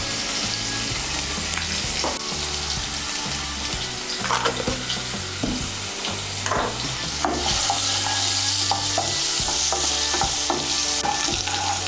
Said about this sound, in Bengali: ওই তেলের মধ্যে আমি আলুগুলো ভেজে নেব